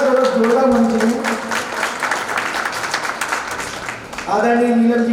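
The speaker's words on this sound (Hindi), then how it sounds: "तालियों की गड़गड़ाहट और जोरदार होनी चाहिए" Hearty applause from an audience at a community jayanti celebration in Guna, honouring a woman given a women's empowerment award. Many hands clap steadily through the middle, while a voice is heard at the start and again at the end.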